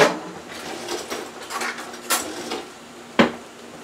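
Metal cutlery clinks and rattles close by while a fork is fetched, with several light taps and a sharper clack near the end, no one speaking.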